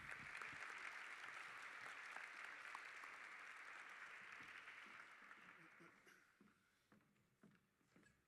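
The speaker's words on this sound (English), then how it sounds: "Let's give a round of applause, please." Applause from an audience at a high school awards assembly, a dense sustained wash of clapping that gradually thins and fades toward the end, leaving scattered claps.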